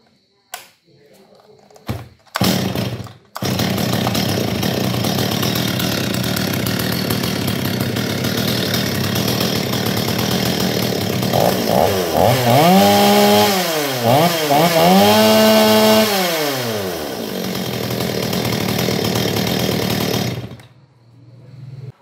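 A German-made chainsaw's engine roars steadily and loud, revving up and down in a few swells before cutting off, with a couple of knocks at the start.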